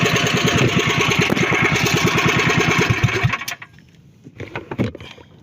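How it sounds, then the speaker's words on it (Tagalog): A boat engine chugs steadily at a rapid, even idle before being switched off, the throb cutting out abruptly, followed by quieter knocks and handling noises. "Papatayin ko muna yung makina."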